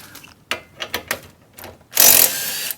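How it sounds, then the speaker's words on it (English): An impact gun works a 17 mm stabilizer bar nut on a Toyota Prius during a front shock replacement, giving a few short ratcheting bursts followed by a loud sustained whir up close. "Comes out easily with the impact gun."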